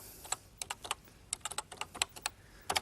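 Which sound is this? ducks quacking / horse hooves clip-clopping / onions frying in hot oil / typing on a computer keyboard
typing on a computer keyboard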